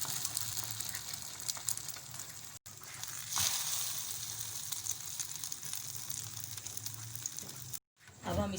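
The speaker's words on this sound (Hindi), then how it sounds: "इसको भी फ्राई कर लेंगे" Bread dipped in egg mix for French toast fries in a pan, giving a steady close sizzling hiss that runs throughout, with brief cutoffs near the middle and end, with no talk.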